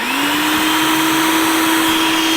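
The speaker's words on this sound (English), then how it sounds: "we'll just blend it until most of the onion is nice and really minced up small" A blender whirs loudly and steadily as it minces onion with olive oil into a salad dressing, its motor pitch rising at the start and then holding an even drone.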